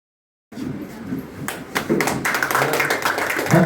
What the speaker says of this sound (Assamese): সকলোৱে জোৰে হাত চাপৰি এটা মাৰিব